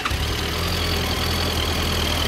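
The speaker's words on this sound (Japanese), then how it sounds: "エンジンを聞かせてもらえるかな" A 2010 Suzuki Bandit 1250S ABS motorcycle engine idles steadily at close range, a constant low rumble with a faint high whine and no talking.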